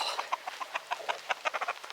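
Chickens clucking in a garden among pea plants, a quick run of short, close clucks and chirps coming in a steady, busy rhythm with no talk.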